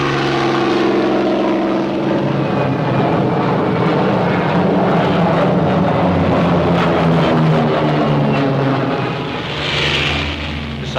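Loud, continuous droning roar of the twin 2,000-horsepower piston engines and propellers of a Northrop P-61 Black Widow night fighter, heard close and steady, with a slight dip near the end.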